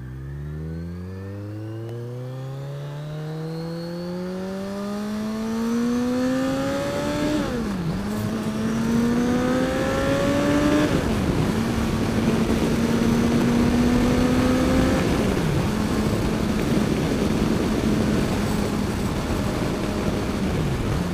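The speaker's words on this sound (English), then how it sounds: "Bike feels so good when you hit those high RPMs." Motorcycle engine revving hard to high RPM on an outing along gravel roads near the Little Wolf River, pitch climbing through gear shifts with loud, steady roar close to the mic and no talk.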